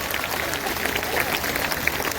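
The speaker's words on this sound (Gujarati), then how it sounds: "આખી યુવા સંગઠન ટીમને પર જોરદાર તાળીઓ દ્વારા 2 હાથ ઊંચા કરીને તાળીઓ પાડો ઘરે" A large audience at a Sardar Katha gathering claps hard for a youth organisation team, a dense, even wash of applause that holds steady for about two seconds without a break.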